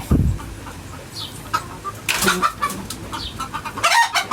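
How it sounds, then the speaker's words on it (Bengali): Chickens kept on a hot rooftop cluck and call repeatedly, close by, with bursts of overlapping fowl vocalizations and some background noise, no talking. "মুরগিগুলা"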